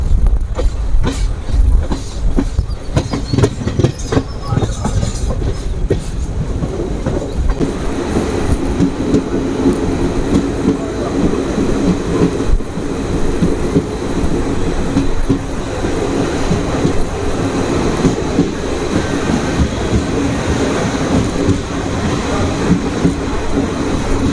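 The Mysore–Sengottai special express train runs along the rails, a loud continuous rumble with rhythmic wheel clatter throughout, without speech.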